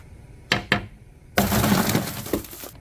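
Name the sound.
duct-taped car window glass being broken out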